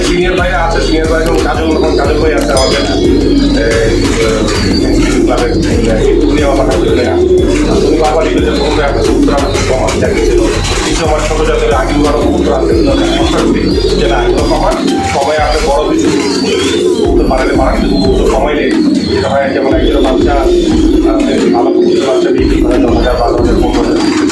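Pigeons cooing in a loft, a dense, continuous layer of coos from many birds close by, with someone talking over them throughout.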